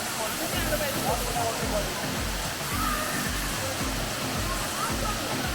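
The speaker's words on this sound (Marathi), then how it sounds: "कसा वाटला हा वॉटरफॉल" Kasarvadavali hidden waterfall pouring in a steady, broad rushing roar, continuous and close, with faint voices in the background.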